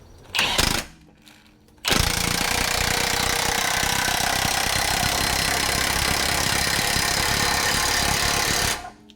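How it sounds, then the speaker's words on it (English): A power tool rattles hard while compressing a VW Tiguan front suspension coil spring, with a short burst, a pause, then a long continuous loud buzzing drive until it cuts off. "we're gonna go ahead and compress the spring, get it out of the way, and take the shock off"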